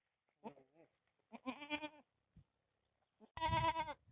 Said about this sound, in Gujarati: બકરા આવી ગયા